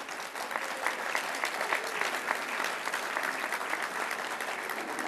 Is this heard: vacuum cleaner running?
no